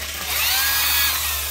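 A Makita 260W hammer drill with a 10 mm chuck runs in one steady, whining burst at moderate loudness, alone and close.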